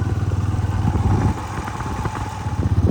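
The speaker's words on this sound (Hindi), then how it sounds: "इसलिए मोटरसाइकिल पे जाना ही अच्छा लग रहा है" Motorcycle engine running steadily on a village ride on a cloudy day, a close mid-pitched drone with a slight shift in tone midway, no voices.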